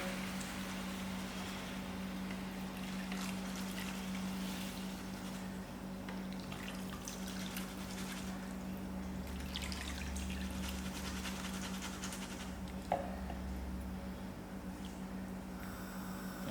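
A liter of water pours steadily into a pot of rasam soup for several seconds, a low continuous trickle and splash with a steady background hum.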